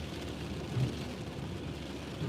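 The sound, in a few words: heavy rain downpour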